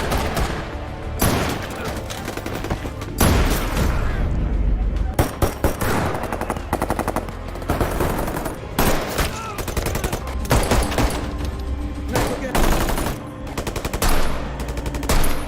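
Heavy gunfire and machine-gun bursts from a bank robbery film scene, dense rapid volleys and single cracks filling the whole stretch, loud and close, with dramatic film sound layered underneath.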